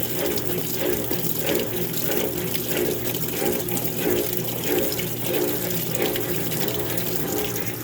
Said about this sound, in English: Oh, it's putting more water in there now.